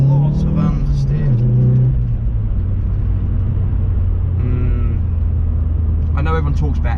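An Audi S1 engine holds full throttle through a bend in second gear, a loud steady in-cabin drone with rising and shifting engine tones, a driver's voice talking over it.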